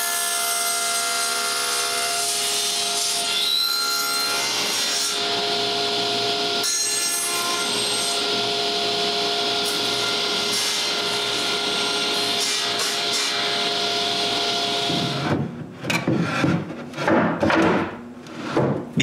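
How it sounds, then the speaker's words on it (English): Cutting a notch into the wood of an old bedroom set makes a sustained, close, rasping tonal sawing sound for most of the stretch, then breaks into irregular, choppy strokes and scrapes toward the end. "so I need to cut a notch."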